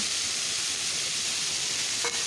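Green peas tumble into a spice masala already sautéing for ghugni, giving a steady close sizzle throughout with a brief stirring scrape near the end.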